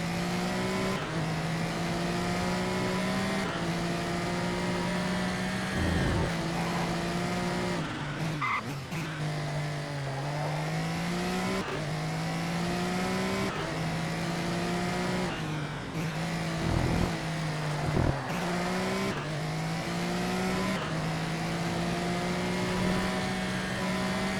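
Race cars in the Race Driver Grid video game roar steadily throughout, with engines revving and shifting, tires squealing and skidding, loud and continuous with no talk.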